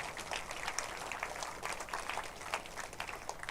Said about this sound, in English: A big round of applause for Planet Hollywood.